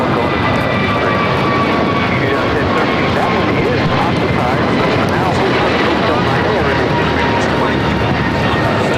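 Eva Air airliner departing on runway 25 right at Los Angeles International, bound for Taipei: a loud, sustained broadband jet engine roar fills the whole span, steady and near, with faint tonal whine on top and a radio voice speaking over it.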